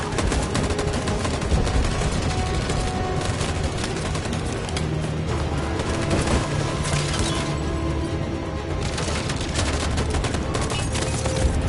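Sustained volley of police squad gunfire in Detroit: Become Human, dense overlapping shots and bursts rattling loudly and continuously throughout with crashing impacts, no talk.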